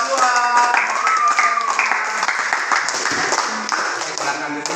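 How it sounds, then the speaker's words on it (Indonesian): A class claps for a student group, a dense burst of applause lasting throughout, loud and close, with some voices mixed in. "Kasih tepuk tangan dulu untuk kelompok 2."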